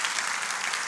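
Brief burst of dense audience clapping, steady and fairly loud throughout a single second, with no voices over it.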